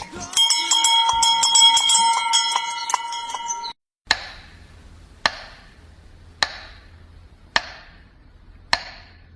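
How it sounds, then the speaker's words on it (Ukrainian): Small hand bell rung at a remembrance moment for the International Day of Peace, first a dense shimmering jingle, then after a pause five separate clear strikes spaced about a second apart, each ringing out over faint background hum. "Цей дзвоник друзям передам, їхнім мовчанням і словам."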